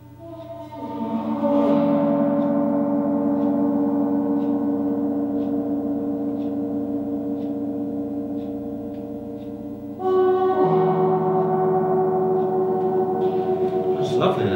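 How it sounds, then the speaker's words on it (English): A gong rubbed on its back with a steel rod tipped in silicone rubber gives long, sustained moaning tones that swell, hold and shift pitch like whale song, rising again partway through, loud and resonant with no talking. "if I rub this end on the back of the gong,"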